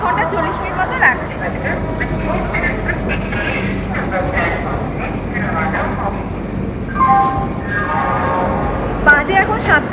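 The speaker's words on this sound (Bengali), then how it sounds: "একদম রাইট টাইমে ট্রেন ছেড়ে দিল" A passenger train pulls out of Howrah station, its low rumble and rolling clatter steady throughout, with voices murmuring over the noise.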